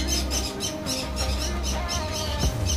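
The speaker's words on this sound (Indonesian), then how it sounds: "Oh, burung nuri." Lory parrots squawking in a bird enclosure at a zoo, harsh repeated calls close by over steady crowd and outdoor noise, with no clear talk.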